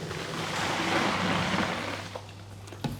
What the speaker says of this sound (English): now I'll just put in 2 litres of hot water